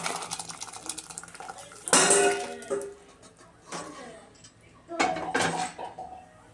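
Cooked toor dal and vegetables going into a pan of frying sambar masala, with metal clatter of a pan and spoon, and two louder bursts of pouring and scraping near the mic; faint voice-like sound between.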